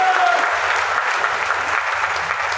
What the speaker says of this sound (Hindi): नाम आया तो संस्था के लिए एक बार जबरदस्त तालियां होनी चाहिए दोस्तों